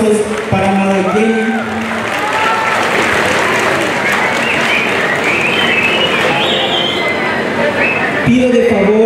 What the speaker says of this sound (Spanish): que se escuchen estos fuertes aplausos para Maradiel.